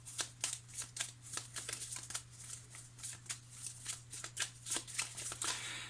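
A deck of tarot-style cards shuffled and drawn for a reading, a quick crisp riffling and flicking that keeps up a busy rhythm over a low steady hum, close and fairly quiet.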